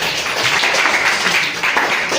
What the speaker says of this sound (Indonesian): Tepuk tangan ya kawannya